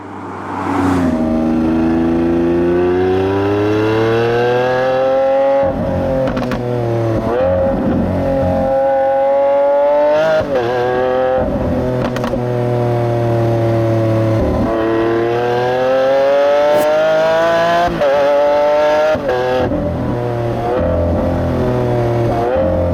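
A Lamborghini Aventador S V12 roars loudly as it accelerates on the road, its pitch climbing through several gear changes with brief dips between shifts, heard alone without talk.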